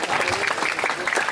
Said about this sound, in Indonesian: Tepuk tangan kuat nak Bali.